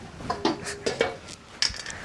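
Pots and dishes being washed with soap, with several clinking metallic knocks and scrapes of utensils against each other, sparse and fairly close.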